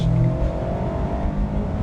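Mazda MX-5 Miata sports car with a 2-liter naturally aspirated engine, running at a steady, loud engine drone with a slight rev at the start, close by and without talk.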